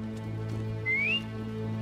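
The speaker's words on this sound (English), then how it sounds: "Is that whistling?" A single short rising whistle, about a third of a second long, faint over a steady hum during a Sniper Elite 5 session over voice chat.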